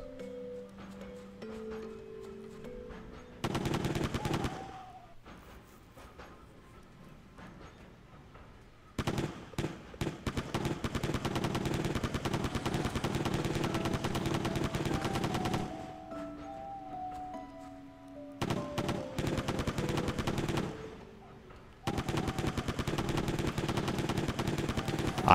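Bursts of rapid automatic fire from a gun in a Switch game, loud crackling runs that start and stop several times over a low tonal game soundtrack.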